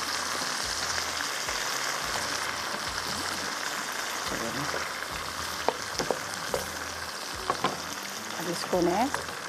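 Saag frying in a pan, stirred as it cooks: a soft, continuous sizzle with occasional scrapes and clinks, partly under a voice speaking nearby.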